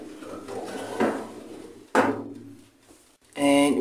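A baking tray of biscuits slid into an oven, with a few close metallic clanks and scrapes, a sharp knock midway, then a louder rattling clatter at the end.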